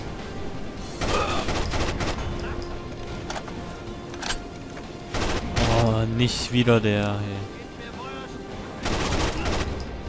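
Gunfire in the video game Rainbow Six Vegas 2: loud, rapid bursts of shots come in several clusters while people talk excitedly over them.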